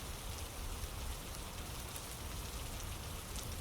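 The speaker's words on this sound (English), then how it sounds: "the rain on the leaves" Soft, steady rain falls on leaves, a faint, even patter and hiss that continues unchanged throughout, gentle and unaccompanied by any voice.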